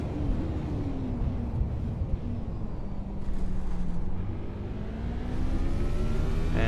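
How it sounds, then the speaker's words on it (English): A Radical SR8 race car's engine roars past on track, a steady loud rumble with a rising and falling whine as it approaches and goes by, heard over the constant drone of another car. "I just heard the roaring engine of an SR8 behind me."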